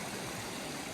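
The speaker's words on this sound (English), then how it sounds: "Here's a pretty neat river crossing." River water rushes steadily at a rocky trail crossing on the Appalachian Trail near Max Patch, North Carolina, a dense, even wash of flowing water heard alone for about a second, fairly soft.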